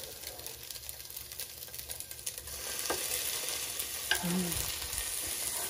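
Pierogi sizzling in a frying pan that was used for onions, a steady soft crackling fry heard up close with faint handling clatter.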